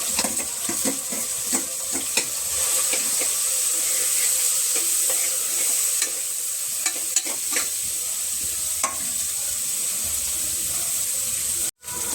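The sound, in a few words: boiled potatoes added to sizzling gravy in pan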